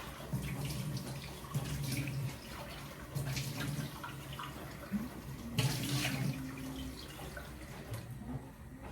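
Tap water runs steadily into a kitchen sink for several seconds, a continuous splashing stream with a brief louder gush midway, fairly close and alone.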